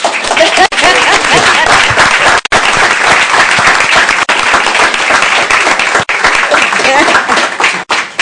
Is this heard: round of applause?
yes